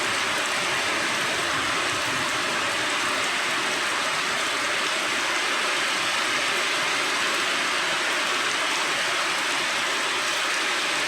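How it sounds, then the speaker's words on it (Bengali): Steady heavy rain falling outdoors in Rangpur during a Boishakh-season shower, a dense even roar of drops that stays loud and unbroken throughout, with no voices over it. "বৃষ্টির শব্দ"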